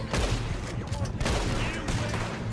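A chaotic shootout during a train heist in Red Dead Redemption 2, with dense overlapping gunshots and bursts of rapid fire, loud and continuous, and a voice faintly mixed in underneath.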